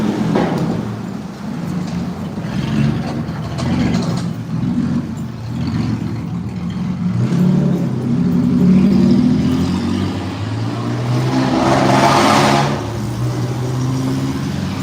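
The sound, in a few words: cars driving past in a neighborhood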